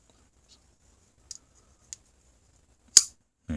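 A Rough Ryder burlwood lockback pocket knife blade slices through paper in a few short, crisp snips and clicks, close and quiet, ending in a louder sharp cut.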